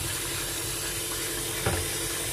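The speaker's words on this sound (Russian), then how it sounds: "Макароны вот так промываю я." Tap water rinsing cooked pasta in a home kitchen, a steady hissing, splashing stream that runs continuously, with a brief louder splash near the end.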